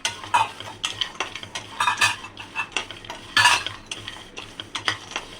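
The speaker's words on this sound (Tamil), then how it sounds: "பாதாம், அப்புறம் முந்திரி, இது எல்லாத்தையும் போட்டு நல்லா கொஞ்சம் வறுத்துக்கலாம்" Almonds and cashews dry-roasting in a pan, stirred briskly so the spoon rattles and scrapes in quick irregular bursts against the metal over a faint underlying sizzle, close and fairly loud.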